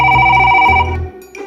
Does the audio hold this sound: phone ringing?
yes